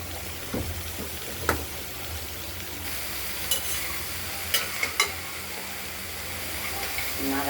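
Chopped snake gourd (chichinga) fries in a kadai with salt and turmeric, sizzling steadily while a spatula scrapes and knocks against the pan in scattered strokes, close and fairly loud.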